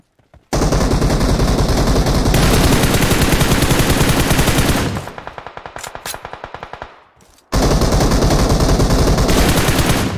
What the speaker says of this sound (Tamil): நீ ஓடிவா உனக்கு கவர் ஃபயர்